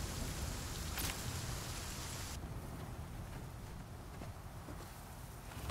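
Steady rain in the survival video game The Flame in the Flood, a dense continuous hiss that thins out partway through as the downpour eases, with no talking.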